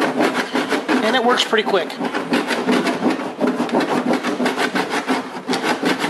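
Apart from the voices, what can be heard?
metal body file filing down lead filler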